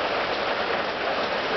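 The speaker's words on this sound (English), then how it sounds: "make the fucking video with the rain coming down" Heavy rain pours down during a Texas flood, a loud, dense and steady hiss of drops hitting surfaces close by, with no voices.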